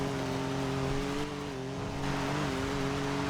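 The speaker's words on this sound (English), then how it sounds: "I definitely think we should stop somewhere just so we don't deal with the engine noise" Steady hum of a car engine in a video game, a constant droning tone with slight pitch wavers as it cruises, loud and unbroken with no talk over it.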